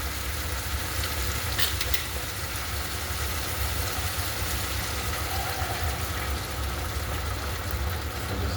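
Chicken sizzles and crackles steadily in a pan after a splash of cooking wine, a continuous even frying hiss with a low rumble beneath and no talking.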